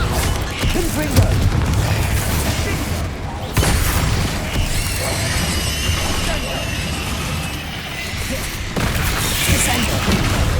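Confringo fire-blast spell cast repeatedly during combat in a catacomb dungeon in Hogwarts Legacy on PS5, a dense run of booming explosive bursts and crackling impacts layered over game music and effects throughout.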